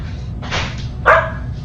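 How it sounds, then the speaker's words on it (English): An untrained dog barks at home, giving one muffled woof and then a sharper, louder bark close by over a low background hum. "If you need any that are totally untrained and bark incessantly, I have the dog."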